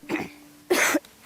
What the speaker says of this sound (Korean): 기침이 나와